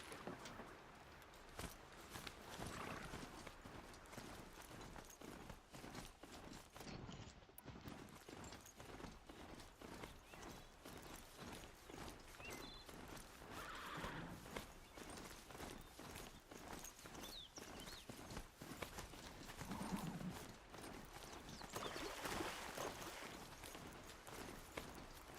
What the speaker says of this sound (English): Come, my noble steed.